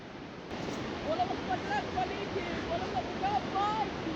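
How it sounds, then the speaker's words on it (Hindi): A river rushes under a suspension bridge on the trek toward Annapurna Base Camp. The water makes a steady, dense roar that fills the whole clip, and a faint voice sits underneath it. "ये आवाज़ है पानी के बहने का आवाज़।"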